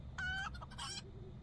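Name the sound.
chickens clucking in video game LOTRO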